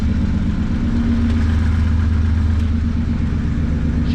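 A BMW E30 with its M20 engine idles steadily and loudly up close, a continuous low mechanical hum with a faint clattering texture throughout, and no voices over it.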